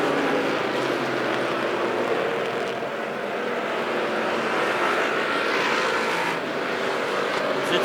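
Race cars at Lebanon I-44 Speedway roaring continuously around the track during a race, a loud, steady, dense engine drone with shifting pitch from the field of cars, far to mid distance.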